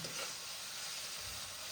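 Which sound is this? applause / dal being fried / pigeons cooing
dal being fried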